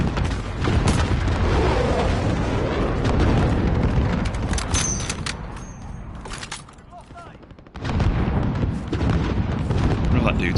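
Gunfire and heavy booms from the video game Modern Warfare, with loud blasts and bursts, a quieter lull, then another loud shot and continued action.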